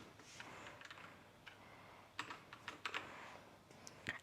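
Quiet keyboard typing at a computer, a few scattered keystrokes at first, then a short cluster of sharper taps close by, over a low background hiss.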